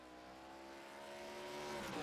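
An SRX race car at speed through turns 10 and 11 at Sonoma, its engine a steady high-pitched whine that rises gradually in pitch and loudness as it accelerates, heard alone at moderate distance.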